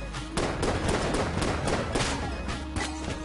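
Rapid automatic gunfire from the video game Enter the Gungeon, a dense, continuous stream of loud overlapping shots with a few stronger bursts and no pauses.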